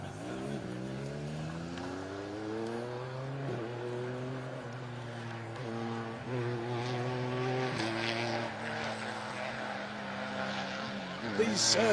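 A BMW 1 Series rally car drives a special stage of Rally Wervik 2022, its engine revving and rising through gears in repeated pulls, heard close and loud with commentary voices over it.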